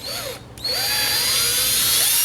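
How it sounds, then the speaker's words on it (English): Power drill boring a pilot hole during a Mustang interior trim install, a loud steady high whine that briefly drops out, then spins back up and holds. "So there's our pilot hole, which should start out our drilling"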